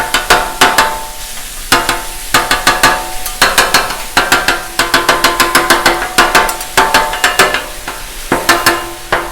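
Cheesesteak meat cooking on a Blackstone griddle with butter, with loud, rapid metal spatula clanks and scrapes in quick bursts over a steady sizzle, close up, no talking.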